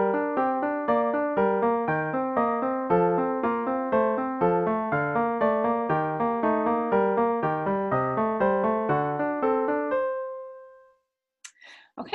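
A musical excerpt demonstrating a diatonic sequence plays alone, a steady run of pitched notes repeating a figure at successively different pitch levels for about ten seconds, ending on a held chord that fades, followed by brief faint noises.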